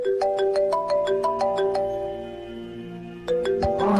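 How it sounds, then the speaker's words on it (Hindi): Mobile phone ringtone in a drama scene, a bright melodic sequence of electronic notes repeating close and clear, with no talk over it. "फोन आ रहा है आपका"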